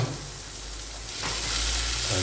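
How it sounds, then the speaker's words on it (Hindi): A tadka tempering poured into a pot of food sizzles loudly and continuously, and the sizzle swells partway through as the hot oil hits. No one speaks. "ये हम इसमें तड़का लगाएंगे, और तड़का लगाते ही हमारा खाना तैयार है।"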